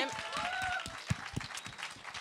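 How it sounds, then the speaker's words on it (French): A podcast show audience on a stage event claps briefly in a scattered, light applause, fairly quiet and distant, with some faint voices mixed in. "On les applaudit."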